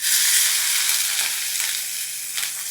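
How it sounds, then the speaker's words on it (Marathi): Chopped onion frying in oil in a tempering of garlic, asafoetida and curry leaves, a steady bright sizzle with faint stirring scrapes throughout, close and even. "खूप शिजवायची गरज नाही, हलकासा मऊ होईपर्यंत कांदा भाजून घ्यायचा"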